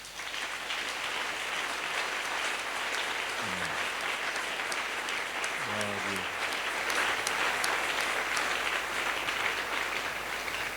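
Sustained applause from a congregation at an evangelical church service, a dense, even patter of many hands lasting throughout, with a brief voice or two rising faintly underneath.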